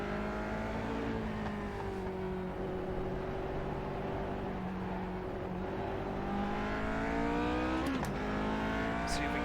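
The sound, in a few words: car driving on the Ring, blipping the throttle while shifting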